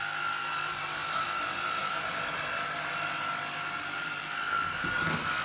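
A Puppyoo T10 cordless vacuum cleaner runs on high over a dirty rug, giving a steady, fairly quiet motor whine with a soft airy hiss and a small bump near the end.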